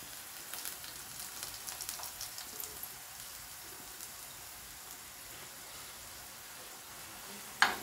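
Potato slices frying in oil, a faint, steady crackling sizzle with a soft spatter that settles lower midway, ending in a single sharp click.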